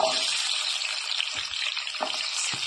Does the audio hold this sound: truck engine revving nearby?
no